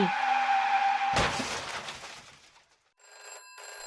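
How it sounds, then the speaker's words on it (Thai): A loud crash, from a race car skidding off the road into a roadside ditch, gives way to a brief quiet before a bright electronic telephone ring sounds in two bursts in a house's hallway. "เสียงกริ่งโทรศัพท์ในห้องโถงของบ้านพัชราพรดังขึ้น"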